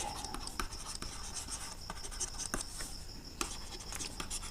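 Pen or marker writing out a trigonometry solution, a continuous scratching, rubbing stroke close by with short taps and pauses between marks, steady and fairly quiet throughout.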